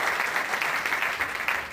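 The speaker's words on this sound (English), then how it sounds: "How about a round of applause?" An audience at an Illinois Manufacturers' Association speaking event gives a brief round of applause after a speech, even and fairly close, with a slightly pulsing texture and no talk over it.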